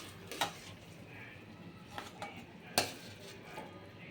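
A metal spoon scooping carrot halwa out of a pan into a bowl: soft scraping with a few distinct clinks of metal against cookware, close and fairly quiet, no voices.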